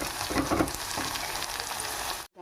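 Ivy gourd and tamarind cook in a pan, giving a steady soft sizzle with some crackle, close and moderate, before the sound cuts off abruptly near the end.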